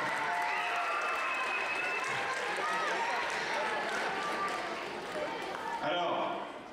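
A crowd applauds a man's 75th birthday at a 2019 mixed-team foil fencing match in Melun. Dense, steady clapping fills the hall for about six seconds, with voices mixed in, then stops abruptly.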